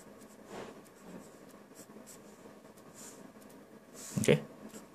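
Pencil sketching on paper: faint, soft scratchy strokes at low level with a brief louder scribble near the end.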